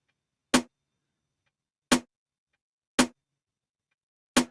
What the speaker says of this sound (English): So the snares together sound like this.